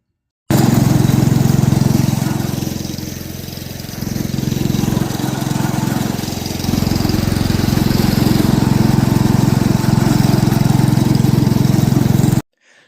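A garden tractor engine runs steadily at a loud, close, low rumbling idle, with a brief dip in level partway through before settling back to a constant drone and cutting off at the end.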